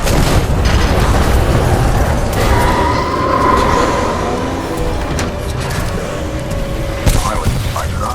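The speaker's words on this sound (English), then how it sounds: "a series of explosions just weakened the manipulator arm" Explosions rumble loudly in the video game Titanfall 2, forming a dense, sustained roar of booms and mechanical clatter in an industrial setting, with a few sharper hits near the end.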